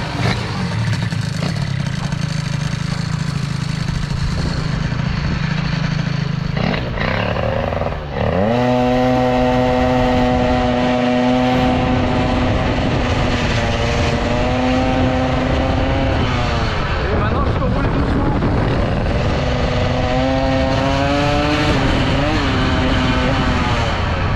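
An air-cooled Stage6 MK2 Sport moped engine runs loud and close, buzzing rough at first, then catching and revving in repeated rising, falling sweeps that hold near-constant high volume.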